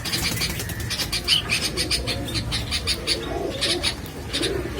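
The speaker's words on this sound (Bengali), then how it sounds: "আমার হাতে যে কবুতরটা দেখতে পারতেছেন এটা হলো একটা সিলেটি কামাগার নিউ অ্যাডাল মাদি কবুতর।" A Sylheti kamagar pigeon, a newly adult female, coos in repeated soft pulses amid chirps from other birds, close and fairly loud with no talk.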